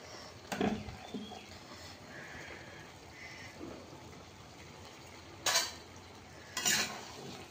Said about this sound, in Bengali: এই যে হাত ধরে ভারী কড়াইটা, এতগুলো এইভাবে ধরে ধরে নাড়ানো যায় না